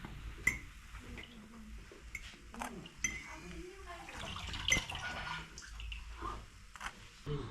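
Quiet kitchen sounds of making a sandwich with cabbage and pork belly: light clinks of dishes and utensils, soft taps and scrapes with occasional louder knocks, faint and irregular with low background noise.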